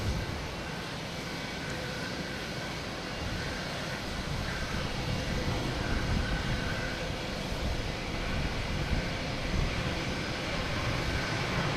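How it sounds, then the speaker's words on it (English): A United Airlines Boeing 737-900 jet at Boston Logan Airport roars steadily and loudly throughout, a broad continuous engine rumble with no speech over it. "United Airlines, 737-900 heading to Chicago,"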